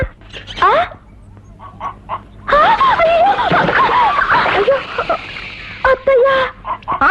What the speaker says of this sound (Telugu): కోడి బియ్యం తింటుంది